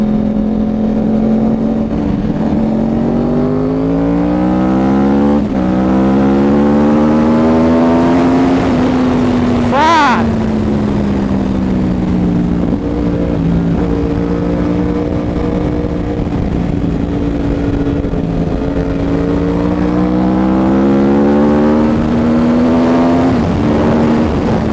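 Yamaha R1 sport motorcycle fitted with a Toce exhaust ridden fast through Mumbai, its loud engine rising and falling in pitch through gear changes with a sharp rev spike midway, steady and close throughout with no talking.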